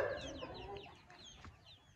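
A purebred Mianwali Aseel rooster clucks in a run of short, throaty calls that are fairly close and clear, with no talking over them.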